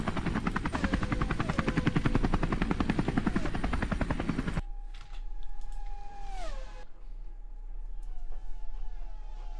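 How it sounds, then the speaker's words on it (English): A very loud helicopter passes overhead, its rotor chopping in a dense, steady pulse for several seconds before cutting off, leaving quieter engine whine and faint background sounds. "It's this very loud helicopter as we go back on board with Alex Cochran."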